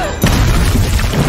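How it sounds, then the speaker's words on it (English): A movie explosion in a shootout scene, a loud booming blast that sets in sharply after a brief lead-in and rolls on as a dense, low rumble for the rest of the moment. "a second explosion sent Joe bouncing into the wall"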